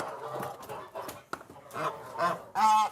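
Geese on a French foie gras farm honking in short, nasal bursts, with a louder, longer honk closing the sequence; the calls are close and come alone, with no talking.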